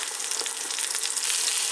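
Eggs frying in a skillet at home, a steady close crackling sizzle with bright spattering pops, continuous and loud with no voices.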